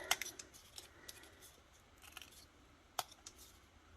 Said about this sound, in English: I will trim the corners